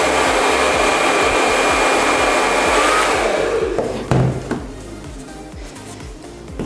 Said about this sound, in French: au pire, vous prenez le sèche-cheveux